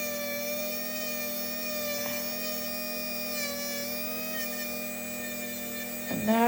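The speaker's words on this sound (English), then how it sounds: "And this is a ceramic burr." A ceramic burr on a rotary tool grinds down a thick toenail on a left foot, a steady high-pitched whine with strong harmonic tones and an even drone. Near the end the pitch dips and the grinding rises as the burr presses harder.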